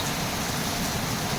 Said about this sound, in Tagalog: It's raining in Quezon City.